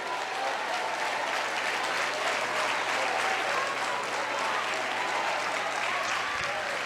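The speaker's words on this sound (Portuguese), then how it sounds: "A igreja aplauda a Deus." A church congregation applauds to God during a sermon, a dense and steady wash of clapping that holds at an even level for the whole stretch.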